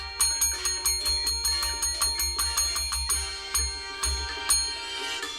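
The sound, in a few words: dinner bell ringing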